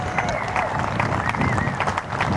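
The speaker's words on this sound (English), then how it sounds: "his teammates all stand and applaud" Cricket teammates applaud Matthew Hayden's century with a steady patter of clapping, held at moderate level. Crowd noise and commentary sit underneath.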